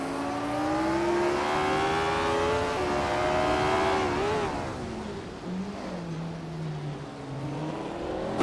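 Racing game cars, including a classic 1964 Ferrari 158, rev hard at the start of a race at Highlands Drift, one loud rising engine whine that climbs steadily, then dips and settles as other engines drone behind it, with no voices.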